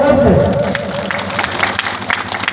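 A crowd claps and applauds at a public community gathering, a steady patter of hands that begins under a voice and carries on alone for a couple of seconds.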